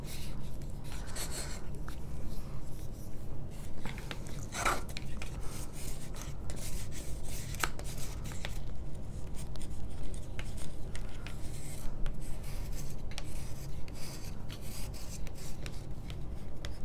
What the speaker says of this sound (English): now I'm gonna take my bone folder and just give everything like a really good